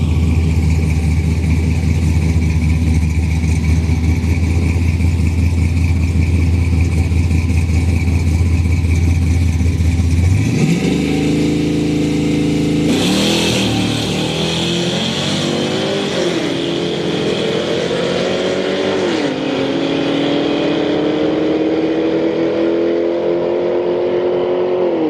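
A second-generation Camaro in the left lane and a Holden Commodore sit idling at a street-night drag race at Orlando Speed World, then burst into loud, close revving that climbs through several gear changes before settling into a steady high drone.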